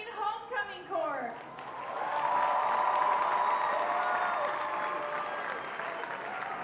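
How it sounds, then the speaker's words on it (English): Crowd applause and cheering for the 2014 homecoming court at an Edmonds Woodway high school football game against Lynnwood. The applause rises after a brief announcer's voice and holds steady and loud throughout. "Can we have one more big round of applause for the"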